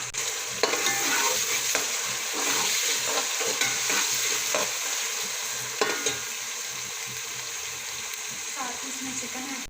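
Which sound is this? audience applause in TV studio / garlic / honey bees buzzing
garlic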